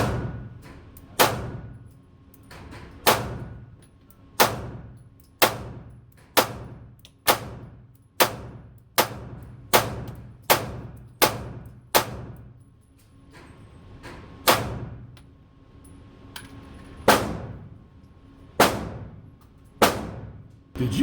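Sharp pistol shots ring out one after another at an indoor shooting range, loud and close, with a steady cadence that tightens into a faster string before spacing out again.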